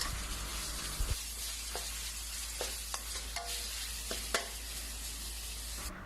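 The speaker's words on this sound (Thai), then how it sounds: "เราก็จะผัดไปจนกว่าหมูสับของเราจะสุกค่ะ" Minced pork stir-fried in a pan, with a continuous soft sizzle and occasional scrapes and clinks of a spatula against the pan, close and fairly quiet, with no voices.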